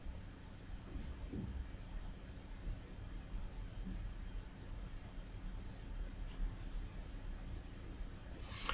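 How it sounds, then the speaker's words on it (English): A pen drags across a sheet of paper, making a faint, continuous scratching with a few brief squeaky strokes. A low background hiss runs throughout, and no one speaks. "Probably easier if I draw it on a bit of paper"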